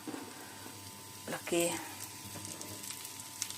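Large onion leaves sizzling in melted margarine in a pan, a soft, steady frying hiss with a brief louder burst as they hit the fat, while a person talks nearby.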